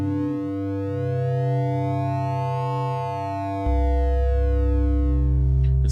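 A Nord Micro Modular synthesizer holds a sustained, bright buzzy tone rich in harmonics, then shifts to a new pitch partway through, steady and alone with no voices.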